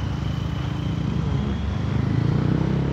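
A motorcycle engine revs steadily and loudly while being ridden on a city road in traffic, a continuous low drone that swells slightly toward the end, kept below about 5,000 rpm.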